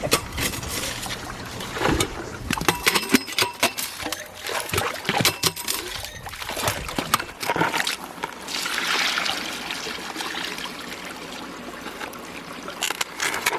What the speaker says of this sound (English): Oh yabby pump, come and suck the bed of a stream for me.